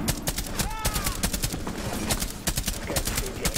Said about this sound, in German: Wie viele Schüsse brauchst du denn, Kerl?